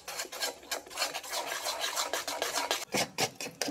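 Bhaji batter with ajwain is stirred and scraped in a bowl, making repeated rough rasping strokes in a fairly quick irregular rhythm, close and fairly loud.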